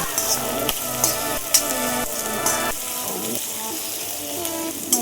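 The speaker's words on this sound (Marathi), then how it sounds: "आपण कांदा फ्राय करून घेतोय" Sliced onion sizzles and fries steadily in a hot pan for a restaurant-style Hakka noodles dish, a loud, continuous crackle broken by a few clanks and stirs, with no talking.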